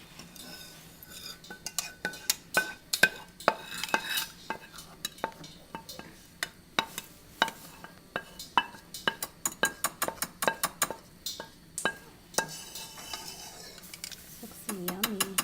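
A utensil spreads Gorgonzola cheese sauce over pasta for a lobster mac and cheese, producing repeated close metallic clinks and scrapes against a dish in an irregular rhythm, with quiet wet stirring between them.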